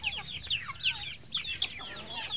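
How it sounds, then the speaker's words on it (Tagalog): Hungry farm chickens cluck and chatter close by in a busy, overlapping flurry of short calls, with rises and dips in loudness. "Tingnan nyo yung aking mga manok ay gutom na gutom na siguro sila."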